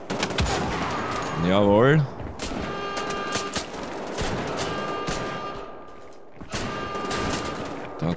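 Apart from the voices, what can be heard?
gunfire in the video game Wolfenstein: The Old Blood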